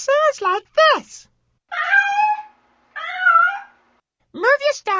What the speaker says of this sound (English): We need to find the cat. It sounds like this.